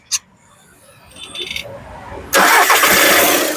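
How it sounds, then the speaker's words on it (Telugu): A 2015 Volkswagen Polo Highline TDI diesel fires up on the first crank after a few faint clicks and rustles, then settles into a loud, steady near engine roar that fills the rest of the moment. "సింగిల్ సెల్ఫ్ లో కార్ స్టార్ట్ అవుతుంది"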